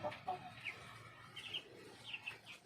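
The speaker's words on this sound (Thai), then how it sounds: "เบิ่งไก่กันครับ ให้อาหารไก่" Chickens cluck and chirp softly in a coop on a calm morning at feeding time, a few short calls scattered over faint background hum with no talking.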